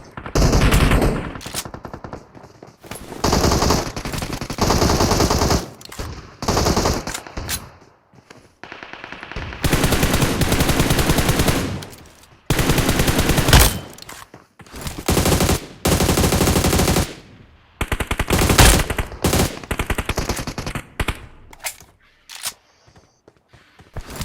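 Loud bursts of rapid M4 automatic rifle gunfire in the video game PUBG Mobile, in repeated volleys separated by short pauses, with no talking.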